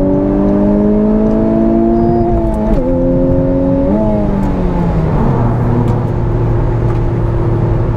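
A 2021 Honda Civic Type R accelerates hard from inside the cabin, its engine note climbing steadily through the revs, dipping briefly at each gear change, then settling into a lower drone.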